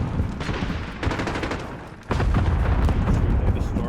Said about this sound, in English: Friendly cluster strike inbound.